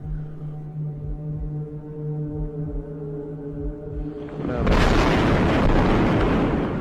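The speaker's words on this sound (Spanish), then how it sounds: "esa calma se rompe abruptamente por un sonido estremecedor, una explosión desgarradora que hace eco en la distancia, sacudiendo el ambiente con su fuerza" A loud explosive burst erupts after a stretch of steady droning tones, then a broad roaring rumble sustains and echoes for several seconds until the end.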